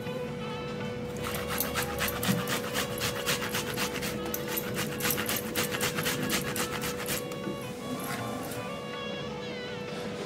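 Fresh ginger is rubbed against a grater in a home kitchen, a quick series of rhythmic rasping scrapes that then stops, with a steady background hum throughout.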